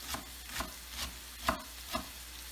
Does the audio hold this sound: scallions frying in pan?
yes